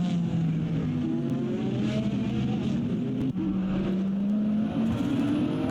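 Race cars sweep into turn 1 on the Indianapolis road course, a loud, sustained engine roar that shifts pitch as the cars brake and accelerate through the corner.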